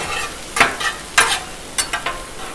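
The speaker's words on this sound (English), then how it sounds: "so let's just keep mixing everything up" A spatula scrapes and clacks in quick, close strokes as chicken stir-fry sizzles on a hot 36-inch Blackstone griddle, with a steady frying hiss underneath.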